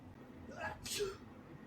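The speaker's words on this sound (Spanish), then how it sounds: "él mismo estornudó" A man sneezes in a Spanish-language audio drama: a brief breathy intake rising into one sharp, airy burst, close and fairly quiet against low background hum.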